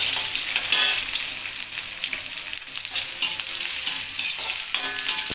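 Steady, loud sizzling of onion, garlic and chillies frying in a hot pan, with occasional stirring scrapes, close up and with no talking.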